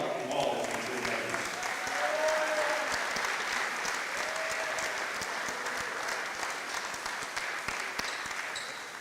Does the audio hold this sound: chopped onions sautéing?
no